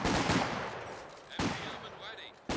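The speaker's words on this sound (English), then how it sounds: "Grenadiers now firing against the intersection." Gunfire in the WWII strategy game Company of Heroes 2: loud bursts of rifle and machine-gun fire recur at the start, middle and end, each followed by a fading rattle. A voice talks over the battle.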